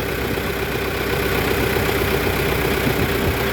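A JGM wheeled log loader with a four-cylinder turbo engine idles, giving a steady, fairly loud mechanical hum and rumble that holds evenly throughout with no speech.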